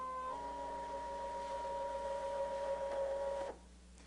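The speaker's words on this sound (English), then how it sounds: "So now that the machine is done scanning" A ScanNCut cutting machine hums steadily as it scans wood veneer pieces, a sustained mechanical whine that stops abruptly partway through, leaving a quiet room.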